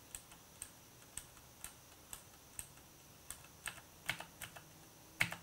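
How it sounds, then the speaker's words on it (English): Mechanical keyboard fitted with blue Cherry MX switches typed on alone, giving sharp, loud clicky keystrokes at an uneven pace, close up, with a few quicker bursts toward the end. "The blue Cherry MX switch is definitely the most, well, the noisiest of the lot."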